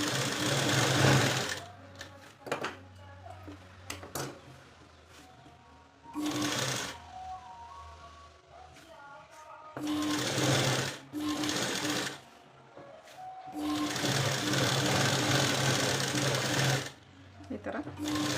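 A sewing machine stitching a puff sleeve runs in several loud bursts of rapid mechanical whirring, separated by pauses where someone talks over quieter handling sounds.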